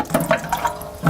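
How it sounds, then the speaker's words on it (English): Water runs steadily from a tap as a Statim 2000 autoclave part is rinsed to wash out oil lubricant, a close, splashing flow with slight gurgles and no speech. "So you rinse it, get that oil out of there, the lubricant."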